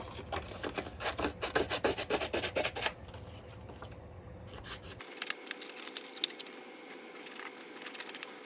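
Scissors snip and rub through paper while artist trading cards are cut out, a close run of quick rasping cuts, then a quieter stretch of lighter scraping and handling.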